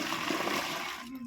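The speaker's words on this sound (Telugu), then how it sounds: "వేడి నీళ్ళు వేసుకుని తిరగొట్టుకోవాలి ఫ్రెండ్స్." Hot water splashes and swirls as mushrooms are rinsed in a kitchen, a brief, steady watery rush up close with no talking.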